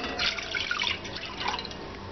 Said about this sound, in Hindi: उसमें हम डालेंगे ये 2 कप पानी